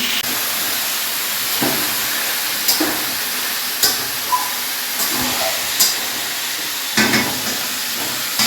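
Fish curry with cauliflower and potato simmers in a pot, giving a steady hiss and sizzle with occasional clinks and stirring knocks at irregular intervals.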